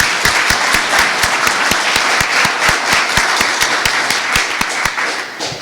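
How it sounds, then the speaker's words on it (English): A room audience at a Rhode Island climate event gives loud, sustained applause for young activists, with dense clapping close by and steady throughout. "Round of applause for them."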